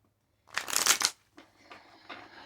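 A deck of tarot cards being shuffled up close: one loud riffling burst followed by a few softer shuffling rustles, with no talking.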